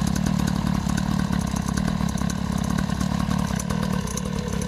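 New quad bike engine idling on its first start, a loud, steady, throbbing putter with a fast rattling pulse, continuous and close throughout.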